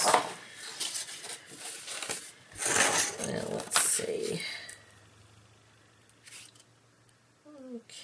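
Paper card pieces being trimmed for slimline cards, with several soft snipping and rustling cuts in bursts over the first few seconds, then quieter handling; a voice speaks briefly near the end.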